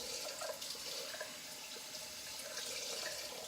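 Water running steadily from a tap into a sink while alum is rinsed off after a single edge razor face and head shave, a continuous close splashing flow.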